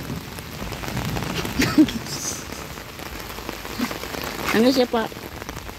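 Steady rain falls on a surface outdoors, a constant wash of patter throughout, with a person talking briefly over it.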